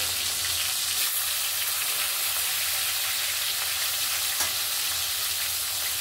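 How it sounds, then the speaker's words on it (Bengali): A rohu fish head frying in hot oil for a Bengali murighonto gives a steady, close, dense sizzle that holds at an even loudness throughout, broken only by a few faint clicks and pops. "এবার তেল গরম হয়ে গেছে, আস্তে আস্তে মুড়োটা ছেড়ে দিলাম তেলে"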